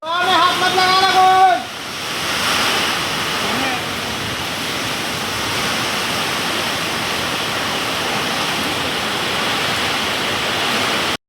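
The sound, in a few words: heavy rain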